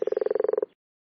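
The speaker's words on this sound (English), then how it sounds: "This is a toad." A toad croaks in a single rapid trill of about fourteen evenly spaced pulses, close and clear, ending abruptly after under a second with silence after.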